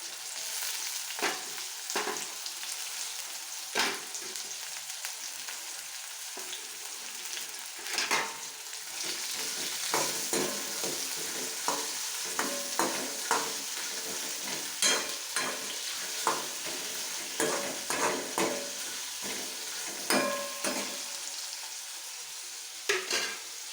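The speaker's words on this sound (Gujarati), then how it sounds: "બટાકા શેકાવા દઈશું" Onions and potatoes sizzle and fry in a pan, with repeated sharp scraping and clacking of stirring strokes over a steady crackle.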